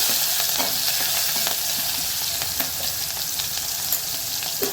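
Asafoetida, curry leaves and garlic tempering in hot oil sizzle loudly and steadily, with scattered crackles and pops and light stirring scrapes throughout, with no voices.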